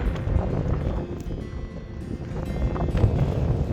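Gusty wind buffets the microphone on a winter mountain summit in Scotland, a low, rumbling roar rising and falling continuously, loud and close with no voices.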